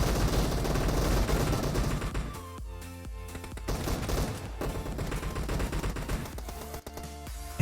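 Gunfire from a shotgun and other weapons in the mobile battle game PUBG Mobile, a dense loud volley of repeated shots with brief gaps, game sound mixed over a constant backdrop.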